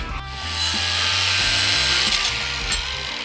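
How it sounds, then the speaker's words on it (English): An angle grinder runs steadily in a workshop during work on a 1948 GMC pickup truck, a loud continuous whine with small shifts in pitch as it loads and unloads. "Grinder."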